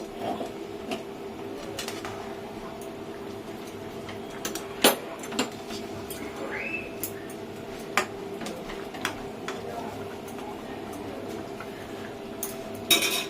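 Chicken biryani rice is stirred in a pot, with scattered metallic clinks and scrapes of a spoon against the vessel over a low steady hum, spaced irregularly at moderate volume.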